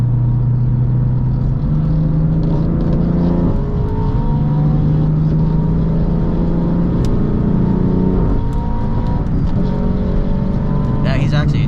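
Engine of a tuned BMW F8X with an MHD GTS tune drones loudly from inside the car as it is driven fast, rising and stepping through gear changes, with faint talk underneath.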